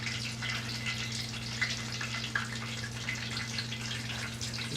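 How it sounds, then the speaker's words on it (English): Pieces of chicken frying in hot oil, a steady dense crackle and sizzle with scattered pops over a constant low electrical hum, close and unbroken throughout. "we're going to put the fried chicken in one at a time."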